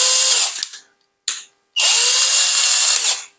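A DEKO 12 volt cordless drill whirs in three close, loud bursts: a long run, a brief blip, then another sustained run that winds down.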